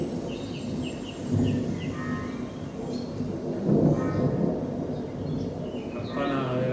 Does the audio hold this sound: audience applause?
no